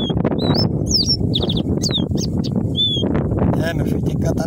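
A caged caboclinho seedeater sings repeated sharp, whistled chirps and trills close by, set against a dense layer of background chatter and noise.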